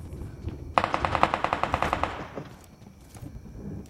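Automatic gunfire in a video game sounds as one rapid burst of about fifteen evenly spaced shots lasting over a second, fairly close and loud, followed by quieter game background.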